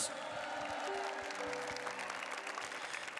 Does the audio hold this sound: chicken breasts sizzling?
no